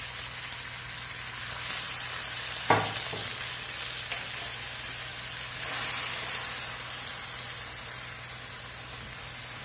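Hot water is poured into hot caramel sauce with fresh cream, setting off a steady broadband sizzle and bubbling that flares briefly and swells again, close and fairly loud, with no talk.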